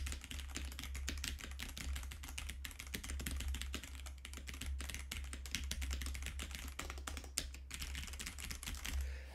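Steady typing on a computer keyboard, recorded through a gaming microphone mounted on a shock mount, gives a dense, continuous stream of fairly faint key clicks with no talking.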